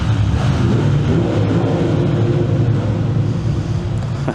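A 2025 Triumph Speed Twin 1200 RS motorcycle engine roars steadily inside a tunnel, a loud, sustained low rumble mixed with heavy wind rush, without any talking.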